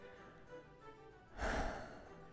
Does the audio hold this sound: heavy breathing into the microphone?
yes